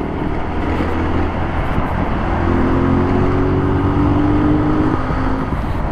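A 2020 Kawasaki Z125 Pro SE, a 125 cc motorcycle on 12-inch wheels, drones steadily while being ridden along a bumpy road, its engine note loud and continuous, blended with rushing wind noise.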